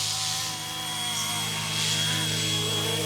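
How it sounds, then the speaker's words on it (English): A steady high-pitched motor whine with a droning buzz from a 1:34-scale UH-1 Huey remote-control GPS helicopter hovering nearby, holding level with slight swells in loudness. "What the heck is that noise? Is that the helicopter?"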